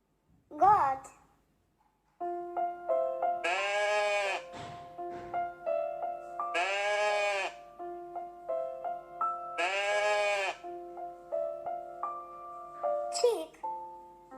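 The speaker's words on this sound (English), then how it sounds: "Goat." A goat bleat, apparently a recorded sample, opens with a short cry; a melodic children's song with sung, bleat-like vowel sounds and a repeated tune follows, ending with another bleat.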